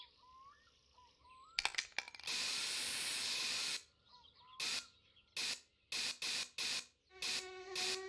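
A spray paint can in the game My Summer Car hisses in one long burst followed by several short, loud sprays, with brief rattling clicks between them.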